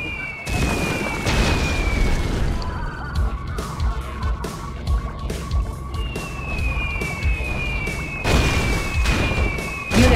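A nuclear missile detonates in Red Alert 2: Yuri's Revenge as a loud, booming blast with rumbling aftershocks. Game sound effects and a few short tonal chirps are layered over it.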